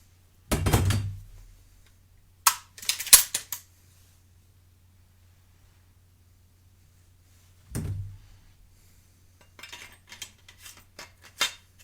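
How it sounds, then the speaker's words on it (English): The barrel slides onto an H&R Excell Auto 12 gauge semi-automatic shotgun, giving a few sharp metallic clacks and scraping thunks separated by quiet pauses, close up with no talking. "And then slide the barrel on, very easy."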